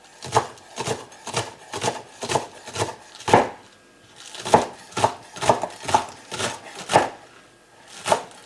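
A knife chops green onions on a cutting board in a steady run of crisp, evenly spaced thuds, pauses briefly, then resumes with more quick cuts, heard up close and alone.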